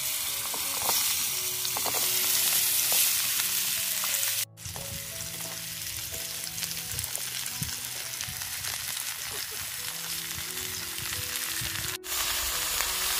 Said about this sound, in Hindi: इसी से मैं आलू और तोरई को हल्के से फ्राई कर लेंगे